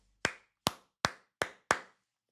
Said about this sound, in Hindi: क्लैपिंग, ये ताली बजाने वाली चीज है